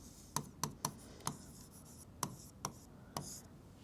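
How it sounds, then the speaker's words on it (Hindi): Pen or marker strokes while a geometry proof is written out, a handful of quiet, sharp scratches and taps spaced unevenly with gaps between them. "तो लिखेंगे सबसे पहले गिवन"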